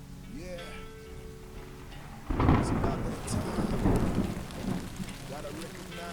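A heavy rainstorm with rumbling thunder bursts in loudly partway through and keeps going as a dense, broadband wash, with faint tonal sounds audible before the onset.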